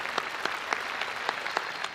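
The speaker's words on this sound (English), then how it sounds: "I clap for Winston" Audience clapping for football player Winston Hill at his Pro Football Hall of Fame enshrinement, with sharp claps standing out at a steady pace over a dense crowd wash for the whole stretch.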